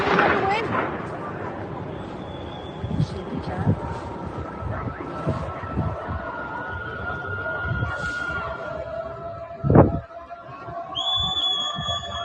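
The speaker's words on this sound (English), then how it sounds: "you can hear like the boom boom explosions in the distance" Faint booms rumble in the distance amid outdoor crowd noise and scattered voices, with one sharper thud standing out near the end.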